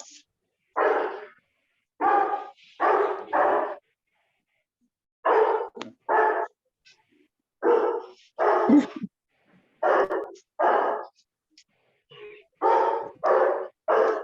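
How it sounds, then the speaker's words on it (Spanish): A dog barks repeatedly in short bursts, often in quick pairs or triplets with gaps between, fairly loud and close against an otherwise quiet background. "Yo nomás oigo un perro"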